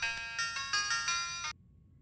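A phone ringtone chimes in four quick bursts, bright and clear, then cuts off abruptly into near silence.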